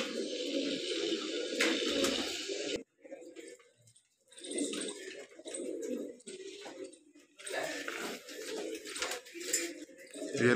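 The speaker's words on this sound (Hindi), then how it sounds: "ये देख लो जी भूरा कबूतर है बड़ा" Large brown pigeons kept as a household hobby coo in soft, low bursts close by, with pauses and some rustling and dripping water in between.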